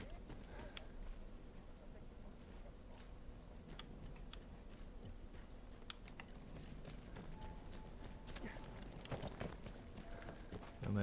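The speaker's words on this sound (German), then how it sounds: "So, jetzt nehme ich mir aber das Pferd." Horse hooves clip-clop in a steady rhythm in the video game Battlefield 1, running under continuous game ambience with faint talk throughout.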